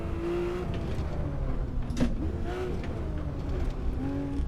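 A fast flat-six sports car drives an easy first run, its engine a steady rumbling drone with a few shifting tones and one brief sharp blip near the middle.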